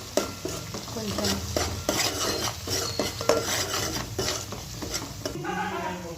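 A spoon stirs a pinch of turmeric and chili powder into a breakfast dish in a pan, with repeated scraping strokes over a light sizzle and occasional clinks of metal.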